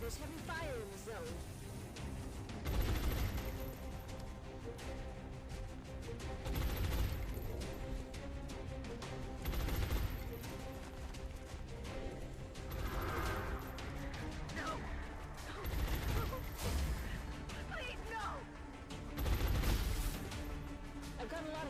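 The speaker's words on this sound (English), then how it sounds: "There's heavy fire in the zone." Heavy gunfire in XCOM: Long War comes in repeated loud bursts of shots and blasts roughly every few seconds, layered over game music and someone speaking throughout.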